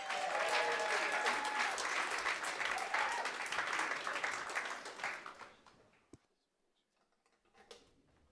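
A concert audience at a music evening applauding for a performer, dense clapping sustained for about five seconds, then tapering off to near silence with a few stray claps and small noises afterward.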